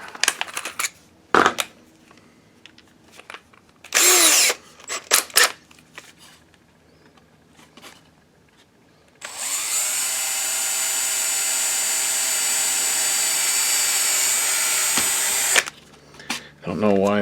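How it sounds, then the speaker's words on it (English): A power drill bores a hole in the plastic housing of a Dell 5100MP DLP projector under repair, a steady, loud whine that runs for about six seconds, preceded by scattered clicks, taps and handling noises. "Let's drill that first."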